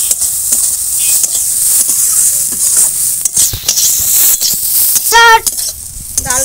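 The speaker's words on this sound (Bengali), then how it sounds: "ডালটা একটু ভালো করে এইভাবে ভাজবো।" Mung dal frying in a pan for a vegetarian Bengali dish, giving a steady sizzling hiss with stirring clatter and scraping throughout, plus a brief tonal squeak near the end.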